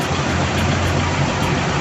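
A Toyota Corolla small-body 2E engine fitted with a Mosashi 3K carburetor idles near 800 RPM, a close, loud, steady low rumble with an even pulsing churn and no voices.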